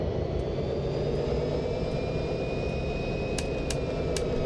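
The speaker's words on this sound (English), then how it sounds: "it's just so fun to throttle up in this loco" A diesel locomotive in the Train Sim Classic game, running on the CSX Hanover subdivision, throttles up with a steady loud engine roar and rising whine, close and constant, with a few faint clicks.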